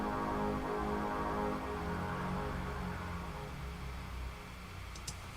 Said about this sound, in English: it is also a string sample, but it is just in a lower octave, and it's using a delay